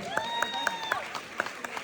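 An audience applauds after a talk, with sharp scattered claps standing out over a steady wash of clapping, while a voice speaks over the top throughout.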